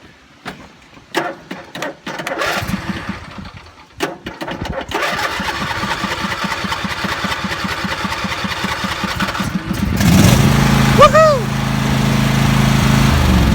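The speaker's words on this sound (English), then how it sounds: "It started up pretty quickly for this lawnmower." A lawn mower engine is pulled and sputters through several attempts, then catches and runs loudly, close by, with a steady chugging idle.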